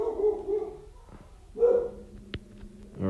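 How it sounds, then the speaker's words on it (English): A dog in a quiet room lets out a few short barks and whining yips at close range, spaced irregularly over a few seconds with no talk over them. "just ignore my dog"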